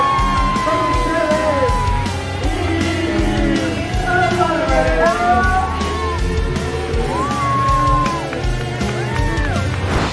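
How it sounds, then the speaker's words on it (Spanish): A crowd cheers and yells loudly for a new ambassador in La Paz who has just won a brand-new car, with overlapping shouts and whoops rising and falling close by. "Por favor, me ayuden a dar un fuerte aplauso"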